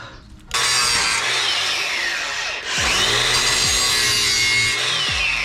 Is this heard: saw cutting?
yes